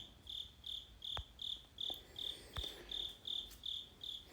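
A cricket chirps steadily in regular, evenly spaced pulses, clear and fairly close against a quiet background.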